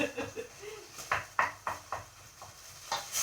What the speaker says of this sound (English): That's the mince browning.